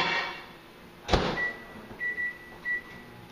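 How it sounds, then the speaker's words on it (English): A microwave oven's door thuds shut, then its keypad gives three short high beeps as the oven starts, heard close in a quiet kitchen. "And I'll put this in the microwave."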